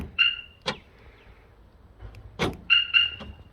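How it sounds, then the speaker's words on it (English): A 1960s Mustang car alarm chirps twice as it arms and locks, then chirps again in a quick double beep on unlocking, with the clunk of the door locks actuating between the chirps, close by in a quiet garage. "Okay, we've got the alarm on."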